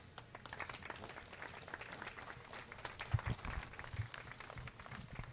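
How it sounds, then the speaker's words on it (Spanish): Applause from a crowd at an evening event in a salon and garden hall, welcoming the night's hosts; steady, fairly faint clapping that carries throughout with a few sharper claps. "vamos a brindarle un fuerte aplauso a los anfitriones de esta noche"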